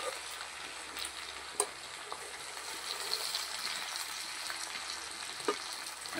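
Okra frying in oil in a village kitchen, a steady close sizzling hiss broken by a few sharp spoon knocks against the pan as it is stirred.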